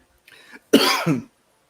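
A soft throat sound, then two loud, harsh coughs close to the microphone, the second slightly weaker, followed by silence.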